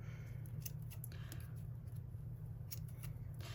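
Scissors snip to trim washi tape on a journal page, quiet close cuts scattered over a soft steady background hum, with no talking.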